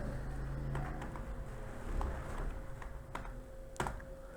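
Someone types a name on a computer keyboard at a data-entry desk: scattered key clicks and a few sharper taps over a steady low room hum.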